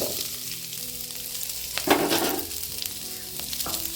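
Onion frying in oil in a pan for a Tamil manathakkali keerai chutney, a steady close sizzle with a few scraping stirs and clinks of a spatula breaking through.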